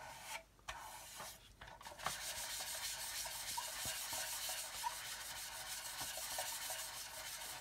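Steady rhythmic sanding rasps across the centre of a scale model aircraft build, a close, even scrubbing stroke after stroke with brief pauses early on.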